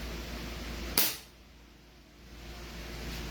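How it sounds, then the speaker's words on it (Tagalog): A CZ TS2 gas-powered airsoft pistol fires a single sharp, loud crack, followed by a brief hiss of escaping gas that fades out. "Firing po tayo mga airsoft, ha."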